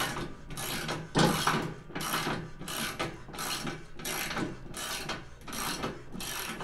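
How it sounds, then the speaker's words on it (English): A wrench tightens a nut on a mower deck, a steady repeated ratcheting clicking in regular bursts, close and fairly quiet with no talk. "So I'm going to tighten up this nut over here."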